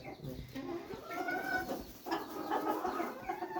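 Hens and a rooster clucking nearby, a few close, scattered calls with faint background noise.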